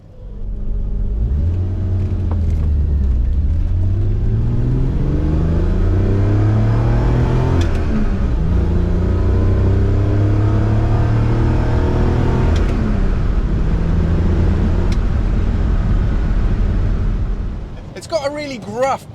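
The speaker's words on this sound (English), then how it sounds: "Let's just take it through the gears again." A Triumph British sports car accelerates hard through the gears, its gruff engine note rising and dropping with each heavy gear change, loud and close, before a brief clatter at the end.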